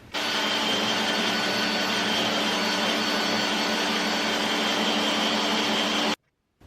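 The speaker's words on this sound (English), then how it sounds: "To fasten the stem side of the batten to the hull with a screw, first the plug hole was drilled, followed by a screw hole." A power drill whines steadily while boring a plug hole and then a screw hole into a wooden rubbing-strake batten on a boat hull, a loud continuous drone that cuts off abruptly near the end.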